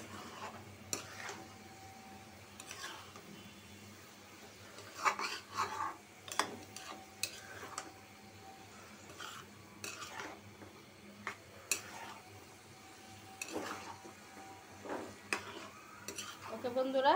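Spices and whole garlic cloves are stirred and fried in a pan, a quiet low sizzle beneath frequent scraping and clinking of a spoon against the metal, close up, with no talking.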